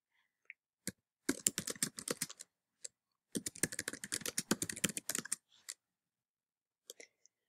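Fingers typing an email on a computer keyboard, quiet close key clicks in two rapid bursts separated by pauses, with a few isolated taps at the start and end.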